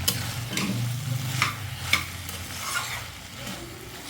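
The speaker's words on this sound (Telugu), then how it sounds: "అలా మగ్గిన తర్వాత అవి చూసారా మగ్గుతున్నాయి" Vegetable pieces for a tamarind stew steadily sizzling and simmering in a pan, with a continuous close frying hiss and occasional light scrapes of stirring, no voices.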